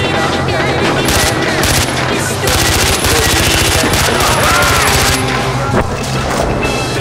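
Dense, loud automatic gunfire in Far Cry 4, rapid bursts and booms packed continuously throughout with a vehicle rumbling underneath, action game chaos with no clear speech.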